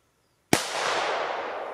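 A single P1204/K0204 firecracker bursts outdoors with a sharp, loud crack, followed by a long crackling, hissing tail that slowly fades over the next second.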